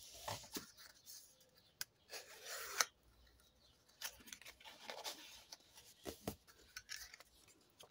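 Scissors snip and rasp through album paper while cutting a bevel edge, a run of short close crisp cuts with brief pauses between strokes, quiet and alone.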